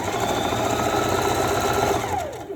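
A sewing machine stitches a folded seam on a stretchy one-piece garment, its motor humming in one loud, unbroken close-up whir that tapers off at the end.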